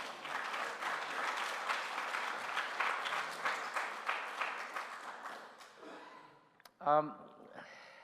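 Audience applause at a jazz vespers tribute service, a steady wash of clapping for several seconds that fades out, followed by brief breathing or a gasp near the end.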